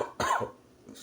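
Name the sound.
coughing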